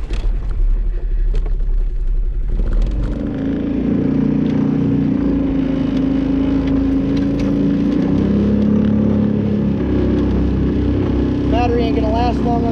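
Boat outboard motor cranking and catching, then running at a steady, loud, close drone with a slight rise in pitch, heard during a saltwater bushcraft outing.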